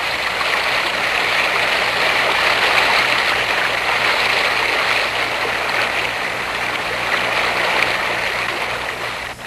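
A rock-strewn stream of water rushes loud and close, a steady unbroken roar of flowing water carrying debris toward the ocean, with no voices.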